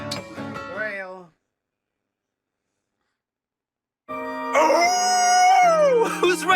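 A howl-like cry at a party scene in the video game Fire Emblem Engage, a short voice bit, a pause of silence, then a long rising and falling howl up close.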